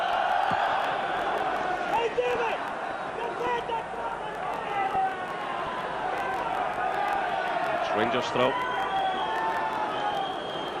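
A large football stadium crowd of about 24,000 at an evening Champions League match between Leeds United and Rangers keeps up a steady roar of cheering and chanting under a commentator's voice.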